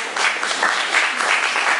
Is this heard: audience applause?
yes